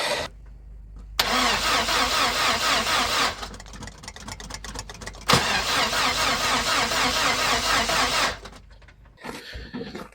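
GAZ truck engine cranking after a long layup and failing to start, two long loud bursts of rhythmic starter churning separated by pauses, close by, ending in quieter clatter.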